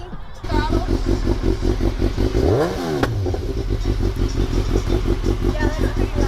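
A 2021 Harley-Davidson Pan America 1250 idles with a loud, pulsing rumble close by, then a sharp throttle blip sweeps up and falls back to the steady idle.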